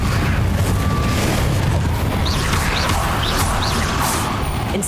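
Confringo explosive spell in the video game Hogwarts Legacy, a loud booming blast with crashing rumble that fills the whole span, with a few faint higher whooshes near the end.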